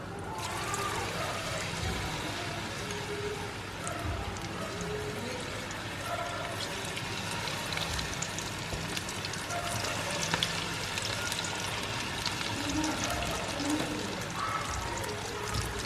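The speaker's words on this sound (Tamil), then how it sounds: "கோல்டனாக ஃப்ரை பண்ணி எடுத்துருவோம்." Battered lobster pieces frying in hot oil, a steady dense sizzle and bubbling hiss that holds at an even level throughout, close and continuous with no pauses.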